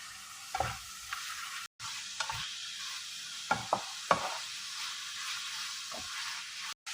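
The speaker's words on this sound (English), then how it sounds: "Add curry powder, thyme, and seasoning cube. Cook until the beef is properly browned." Beef seasoned with curry powder, thyme and a seasoning cube sizzles steadily as it browns in a pan, with a spoon scraping and stirring in several sharp clicks and a brief dropout near the middle.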